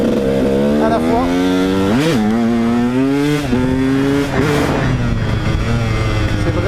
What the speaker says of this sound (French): C'est vraiment une moto super puissante, qui est coupleuse